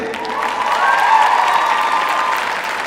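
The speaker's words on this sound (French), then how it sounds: "now you can say, we can applaud them" Audience applause for women pilots in a large hall, a steady wash of clapping that swells and then slightly fades, with a faint tonal hum running beneath.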